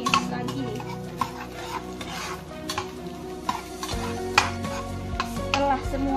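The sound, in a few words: stir-frying carrots for fried rice with dried shrimp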